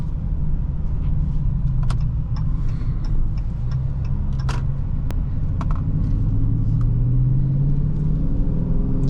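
A 2022 Dodge Charger Scatpack with the 392 engine, its heavy low exhaust rumble droning steadily from inside the cabin on an aggressively tuned test drive, with faint ticks over the top.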